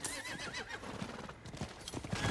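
Horse hooves clip-clopping at a gallop in the video game Diablo 4, a steady rhythmic beat with a whinny near the start, under game ambience.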